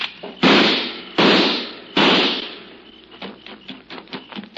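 Three loud gunshot blasts from a sixgun in a 1953 frontier Western radio drama, each a sharp broadband crack with a decaying tail, followed by a quicker run of fainter clattering impacts.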